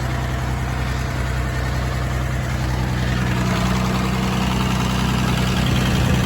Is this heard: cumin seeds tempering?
no